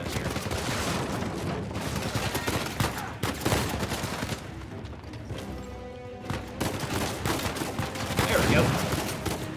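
Shotgun blasts in the action game Uncharted 4, loud repeated booming shots with irregular spacing over a busy game firefight and score, with a voice talking briefly.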